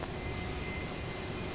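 An MD-11 jet airliner roars at an airport, a steady, loud, broadband engine rumble and hiss that holds evenly throughout with no break.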